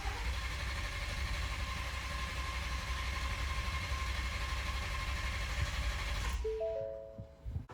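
A 2022 Ford 3.5 EcoBoost engine with a turbo upgrade runs with a steady mechanical drone for several seconds, then cuts off abruptly, leaving a few soft electronic chime tones in the quiet.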